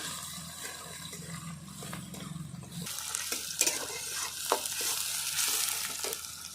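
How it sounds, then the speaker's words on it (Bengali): Chopped onions fry in oil with a bay leaf, giving a continuous sizzle with clinking stirring strokes that grow busier toward the end, heard close and alone. "দিয়ে দেবো তেলের উপরে পেঁয়াজটা ভালো করে লাল করে নেব"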